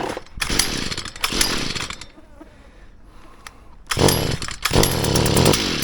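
A gas-powered leaf blower engine warms up after starting without choke, its loud rasping roar surging in bursts, easing to a rougher idle in the middle, then revving back up twice, close by.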